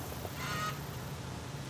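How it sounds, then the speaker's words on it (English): A backyard chicken flock gives a brief, faint honking squawk over quiet outdoor background noise, a single short call with no speech. "chickens are squawking"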